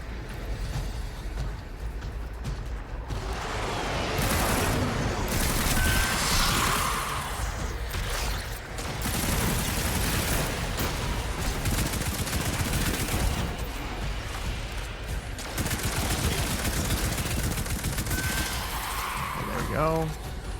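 Weapons firing in Destiny 2, rapid bursts of loud gunfire and whooshing impacts in several clusters, with a voice talking over parts of the action.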